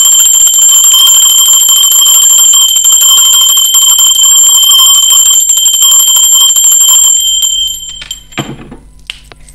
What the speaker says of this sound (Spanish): Va campana, seres divinos. Va campana.